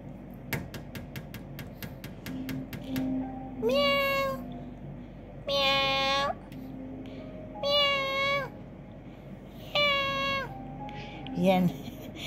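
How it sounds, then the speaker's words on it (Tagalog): A black cat meows close by about five times, in drawn-out cries spaced a second or two apart, over a quiet room with a few faint taps early on. "Meow. Meow, meow."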